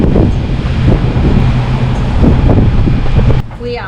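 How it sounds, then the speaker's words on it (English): Strong wind of about 20 knots blows across a sailboat making a passage toward Airlie in the Great Barrier Reef. A loud, steady roar buffets the microphone throughout and eases briefly near the end. "The wind is about 20 knots."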